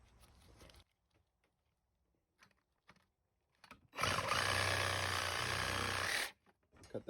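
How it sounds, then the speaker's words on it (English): Reciprocating saw cutting through a rubber control arm bushing on a 2005 VW GTI MKIV, a loud steady buzzing burst of about two seconds after quiet shop sounds, close and dominant. "All I'm gonna do is take my Sawzall"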